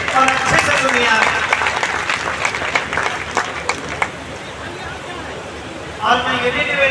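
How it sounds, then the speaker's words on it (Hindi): An audience at an outdoor poetry gathering in Lakhimpur claps, loud at first and then thinning out, with a voice speaking over the applause and a fresh burst of clapping near the end. "एक बार जोरदार तालियां बजाइए और अच्छे से सुनिए आप।"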